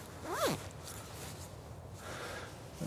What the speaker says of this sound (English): The zipper is really snaggy.